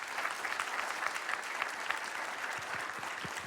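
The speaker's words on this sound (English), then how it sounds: "Round of applause, please, for Dr. Hill." Sustained audience applause at a conference session, steady dense clapping throughout without speech.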